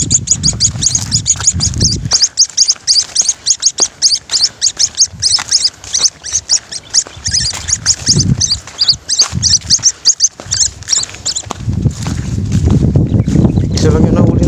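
A freshly caught bird squawks and chirps noisily in a rapid, nearly continuous stream of sharp close calls, with a voice talking underneath at times.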